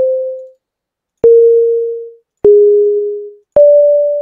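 Four separate electronic beep tones from a Simon memory game built in Unreal Engine 4, each a steady pure note lasting about a second, with short gaps between them; the pitch shifts slightly from beep to beep.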